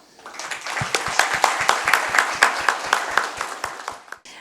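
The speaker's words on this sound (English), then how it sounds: "A huge round of applause for our team Citadel" An audience at a Davos 2026 startup session applauds team Citadel with steady, closely spaced claps that build and keep a lively rhythm for about four seconds before stopping abruptly.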